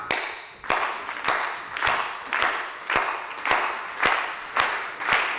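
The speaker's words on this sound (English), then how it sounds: "And I need you to start clapping." A conference audience claps together in a steady, even rhythm, each beat a sharp crack of many hands heard from across the room, with no talking over it.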